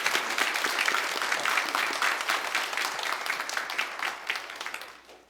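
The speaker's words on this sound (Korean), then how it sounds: "크게 한번 영화의 박수를 보내겠습니다." Church congregation during a Sunday worship service gives loud, dense applause, a continuous roar of many hands close by that holds steady, then tapers off at the end.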